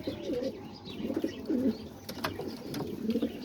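Homing pigeons coo close by in soft, repeated low burbling phrases, several calls spaced over a few seconds, with faint rustling and a few sharp clicks between them.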